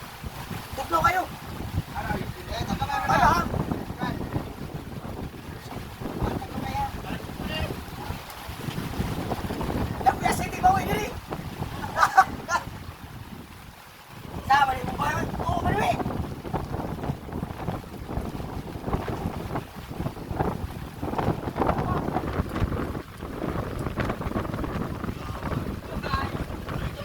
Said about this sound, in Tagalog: lakas yung hangin mga drivers